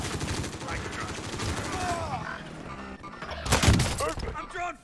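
Gunfire in Call of Duty Warzone on Rebirth Island, with bursts and shots throughout and a loud burst near the end, mixed under excited team chatter.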